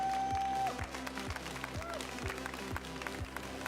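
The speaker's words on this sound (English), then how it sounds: "can I please get a quick round of applause for all of our competitors here today?" Audience applause for competitors at the Pokémon Sacramento Regional Championships, a sustained crowd clatter layered over a steady thumping music beat in a large event hall.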